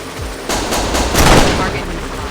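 Gunfire in the action game Execute comes as rapid, loud automatic bursts close up, with dense cracking shots swelling midway and a brief voice near the start.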